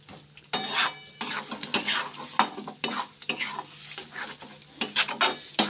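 Bean mash for bharta stirred in a pan on high heat, with irregular scraping strokes of a utensil against the pan over a faint sizzle, close and clear, with no voices.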